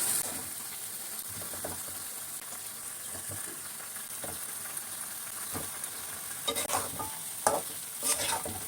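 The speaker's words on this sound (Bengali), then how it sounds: "সব কিছু দিয়ে এখন ভালো করে কষিয়ে মাংসগুলো দিয়ে দিচ্ছি।" Chicken pieces sizzle and fry with spices for a home-style Bengali chicken roast, a steady loud crackle with scraping stirs near the end, no voices.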